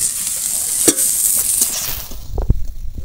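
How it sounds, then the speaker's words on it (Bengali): Ridge gourd and moong dal fry in a pan with a steady hissing sizzle, broken by a few sharp scrapes and clinks of stirring toward the end. "আর এইভাবে একটু ভাজতে হবে ঝিঙে আর ডালটাকে।"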